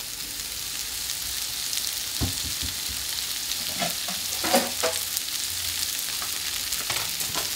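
Vegetables and salmon fry in a pan, a steady soft sizzle with scattered louder crackles and pops, nearby and alone without talk.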